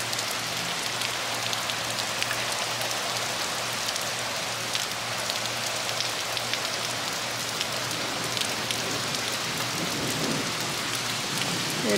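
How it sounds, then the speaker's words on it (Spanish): Steady rain pours down in a dense, even hiss, with drops pattering close on surfaces throughout and no voices. "Y sí está lloviendo ahorita."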